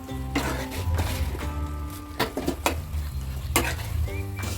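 Gobi manchurian, coated cauliflower with masala, sizzles and fries in a pan, a continuous crackling hiss broken by several sharp scrapes and clinks of stirring, with no one speaking.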